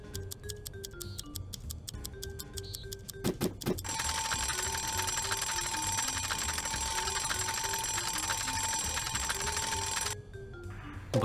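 A cartoonish alarm clock from the Les Sisters 2 Tic-Tac-Tap mini-game ticks with quick regular beats, then bursts into a long, loud, continuous ringing before cutting back to ticking.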